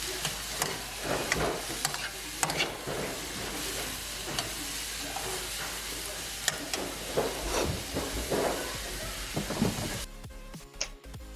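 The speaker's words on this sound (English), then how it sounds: "now I am gonna be sauteing my vegetables, and I am just adding my peppers and onions in a clean pot" Peppers and onions sauté in a clean pot with no oil, crackling and hissing close by while a spoon stirs and scrapes in irregular bursts, then the sound cuts off abruptly near the end.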